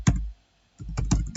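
Typing on a computer keyboard: a few close, quick key clicks, then a short pause, then a fresh burst of taps.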